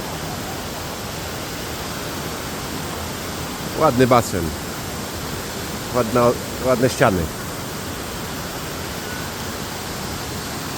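Steady broadband rush of waterfalls pouring around a natural pool, a continuous roar that persists while someone speaks briefly in the middle.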